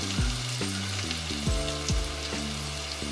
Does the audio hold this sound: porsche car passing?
no